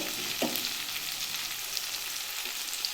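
Ginger and garlic paste fry with softened tomato and onion in a pan, making a close, continuous crackling sizzle with a faint stir partway through. No voices are heard.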